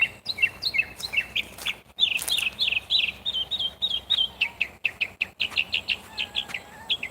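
Small bird chirping up in a tree outdoors, a rapid run of bright, close tweets and short repeated calls continuing steadily throughout, with a faint low background hum.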